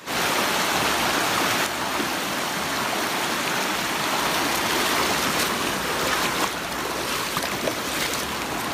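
Heavy rain pours steadily and loudly through a lightning storm, a dense unbroken hiss with no clear thunderclaps standing out.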